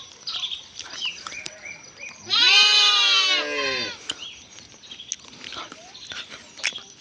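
A single loud, drawn-out bleat from a nearby goat or sheep on a village sheep farm cuts through quieter farmyard background with faint bird calls and small knocks.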